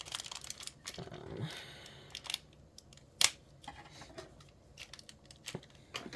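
Scissors snip at intervals beside a cracker box and other holiday food packaging, with one sharp, louder cut among faint rustling and crinkling nearby in a quiet room.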